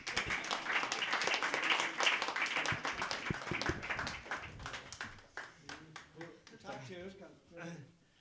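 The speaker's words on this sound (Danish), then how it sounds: "Klap." Audience applause after a Danish poetry reading, dense clapping filling the first five seconds and then thinning out as a voice begins talking over the last few claps.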